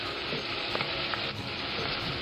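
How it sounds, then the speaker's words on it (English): Chopped green onions fry in warm oil in a pan for a mushroom cream sauce, with a steady close sizzle and a few soft stirring scrapes, and no voices. "Now you're going to cook your onions for a few minutes until they become translucent."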